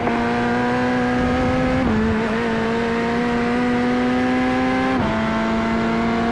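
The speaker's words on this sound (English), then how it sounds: "Faster car coming up quick." Corvette GT3 race cars in iRacing at Road America, a loud, steady engine drone with strong harmonic whine, pitch dipping twice as gears shift or a car passes close by.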